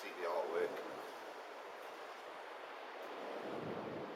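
Strong wind at the ruins of Croxden Abbey roars steadily across the microphone as broad rushing noise, with a brief voice near the start.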